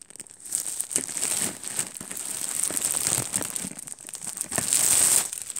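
Crinkling and tearing of a cardboard advent calendar being opened, close and fairly loud, with irregular bursts of crumpling and crackling over several seconds and no talk.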